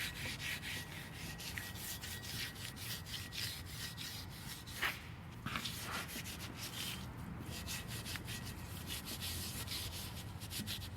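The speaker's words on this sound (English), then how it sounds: "I got some degreaser and a Scotch-Brite pad. I'm gonna take and clean this wheel up real good" A car wheel is scrubbed with a Scotch-Brite pad and degreaser, giving quick repeated rasping strokes in a steady back-and-forth rhythm, close and fairly quiet, with no voices.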